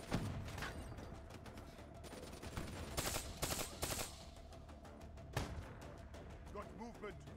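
Gunfire in the video game Call of Duty Black Ops 3, repeated shots and short bursts at moderate level with louder clusters in the middle, mixed with game sounds and a voice.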